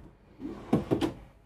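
A wooden dovetailed drawer on full-extension glides in a 2023 Renegade Explorer 38EMB motorhome slides open and shuts with two quick, close knocks, then falls quiet.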